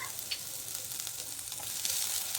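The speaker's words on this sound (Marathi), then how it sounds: "कांदा परतून घ्यायचा आहे हलकासा गुलाबी कलर आला की लगेच" Onion frying in a pan, a soft steady sizzle with faint crackles throughout, quiet and close, no talk.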